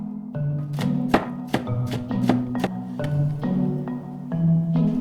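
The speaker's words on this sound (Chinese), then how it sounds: "先把辣椒切碎" Knife chopping chili peppers on a cutting board: a steady run of sharp, close thunks, about a dozen strikes spaced in quick bursts, with no talking.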